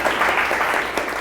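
An audience claps after the first session of a talk, a short, steady burst of applause from a room full of people.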